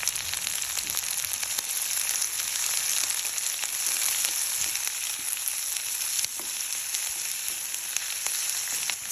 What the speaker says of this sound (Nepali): काटिएको प्याजलाई चाहिँ हामी मजाले तेलमा फ्राई गर्नेछौँ